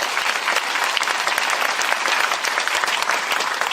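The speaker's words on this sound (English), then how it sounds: "Can we get a round of applause for that?" A rally crowd at a presidential campaign event in South Burlington applauds loudly and steadily, dense clapping filling the whole stretch without a break.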